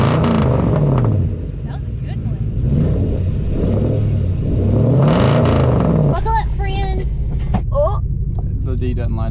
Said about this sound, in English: Fire it up. Give us some revs.